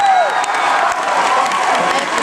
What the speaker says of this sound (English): How about a round of applause for something in general?